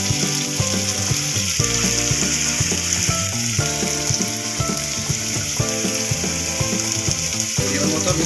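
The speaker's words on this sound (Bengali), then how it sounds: "আলুটা আমি ভালোভাবে ভেজে নেব বলেছিলাম, নাড়াচাড়া করে" Potatoes fry in oil for chicken singara while being stirred, a loud continuous sizzle over a rhythmic clattering. No one speaks.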